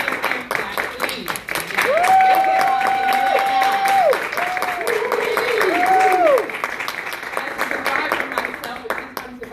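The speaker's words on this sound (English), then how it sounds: "Another clap, please." Audience clapping and cheering at a charity dance performance for survivors, a steady wash of hand claps with whoops and a sustained tonal call or whistle rising over the crowd, fairly loud throughout.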